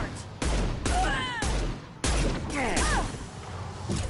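SMG gunfire in a sci-fi shooter video game, dense loud bursts of rapid shots in several volleys with whining ricochet-like tones between them.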